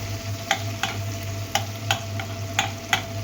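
Two slices of butter heat and melt in a pan for restaurant-style butter chicken, giving a faint, even sizzle beneath a low hum, punctuated by about eight light, regular clicks of a utensil against the pan, with no talk.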